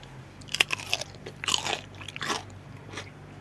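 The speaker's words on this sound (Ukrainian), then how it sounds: "А зараз я хочу вам показати, як вони хрумтять." Firm, fully salted barrel-pickled cucumbers are bitten into and chewed, giving several crisp, close crunches over a soft background hum.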